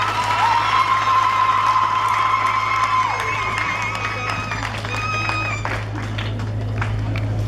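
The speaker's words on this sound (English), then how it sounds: "may you clap to the Lord" An audience at an International Peace Prayer Day speech claps and cheers, a loud crowd sound with some whoops that fades gradually over several seconds, tonal music lines running alongside.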